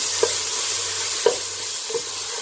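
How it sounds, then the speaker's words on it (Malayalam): Chopped tomatoes frying in a pan for chole curry, a continuous soft sizzle broken by three distinct spatula scrapes or stirs, with no voices. "തക്കാളി മുരിഞ്ഞു തുടങ്ങി"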